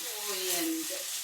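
Onion frying in a pan sizzles with a soft steady hiss while being stirred, under a voice talking.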